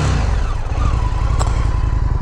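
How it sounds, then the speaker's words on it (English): A 2023 Indian FTR R Carbon motorcycle engine on its stock exhaust, close and loud, with a deep throbbing idle rhythm and a brief rise in revs, heard alone with no talking. "Give you guys a little sound clip of what the bike sounds like real quick"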